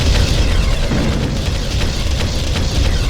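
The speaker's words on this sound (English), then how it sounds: "Mission structure destroyed." A mission structure blows up in the real-time strategy game Ground Control, a loud, dense explosive rumble that stays heavy and continuous for about three seconds.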